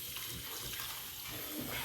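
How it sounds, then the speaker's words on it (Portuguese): Water being scooped out of a cooking pot during outdoor cooking preparations for a São João bonfire, a steady splashing, sloshing wash of liquid heard up close and fairly loud, with no talk over it. "Agora eu vou apanhar a água."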